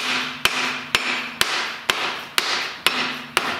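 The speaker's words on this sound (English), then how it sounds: "now I'm gonna bop it with a dead blow hammer, plastic." A plastic dead blow hammer strikes a Honda Fit axle in seven sharp, evenly spaced blows about half a second apart, loud and close with a short ring after each hit and no talking.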